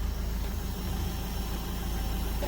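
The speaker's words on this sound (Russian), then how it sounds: "Так, вот двигатель работает." Renault Sandero Stepway 1.5 dCi K9K diesel engine idling, heard as a faint, steady low rumble with light vibration throughout a short stretch.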